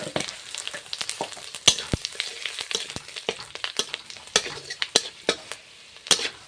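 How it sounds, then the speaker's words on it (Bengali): Dry red chillies, chopped garlic and five-spice seeds frying in hot oil in a home kitchen, crackling and sizzling with sharp irregular pops and the scrape of a stirring spoon, close and alone. "শুকনো লঙ্কা দিয়ে দিচ্ছি আর হালকা করে একটু রসুন কুচি পাঁচ ফোড়ন দিয়ে দিলাম"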